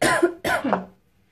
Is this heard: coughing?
yes